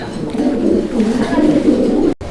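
Lahori pigeons coo softly in low, throaty murmurs, blended with nearby voices talking over them.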